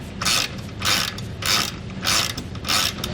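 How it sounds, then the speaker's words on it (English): A 14mm socket wrench ratcheting as it tightens a hex nut on a TorkLift SuperHitch Magnum trailer hitch, five evenly spaced rasping clicks close up with no talking. "use a 14mm socket and wrench to tighten it down"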